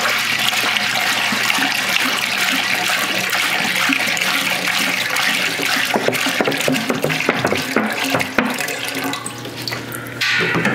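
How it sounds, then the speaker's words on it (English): Two gallons of spring water pour into a home-brewing kettle for beer, a loud, continuous splashing gush filling the whole stretch with no talk over it. "of spring water to the brew kettle."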